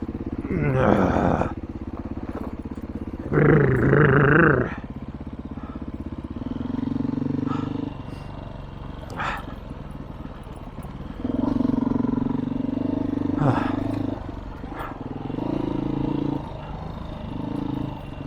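Beta 500 RRS dirt bike fitted with a loud aftermarket exhaust pipe, roaring in bursts on a Colorado trail, its engine rising and falling between louder revving surges and steadier running.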